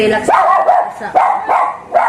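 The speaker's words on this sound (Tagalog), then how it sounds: "Ingay talaga ng aso namin, guys, kasi nakakita siya ng mga bata na dumadaan sa gate." A dog barks repeatedly at close range, a quick series of sharp yapping barks with short gaps between them.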